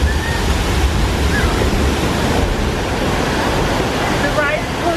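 Loud, steady rushing spray of water in the splash zone of a theme park ride at Universal Islands of Adventure in Orlando, a broad continuous wash of noise with faint voices beneath it.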